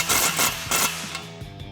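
Quick ratcheting clicks from a 17mm socket tightening a bolt on a Jeep Gladiator JT soft truck cap roof rack, a short burst of rapid metallic ticks close by, no talk.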